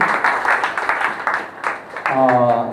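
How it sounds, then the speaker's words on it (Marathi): An audience applauds at a fashion show training event held at a women's centre, a dense burst of many hands clapping together, before a voice starts speaking over the end of the clip. "सगळ्यांनी टाळ्या वाजवायला हरकत नाही."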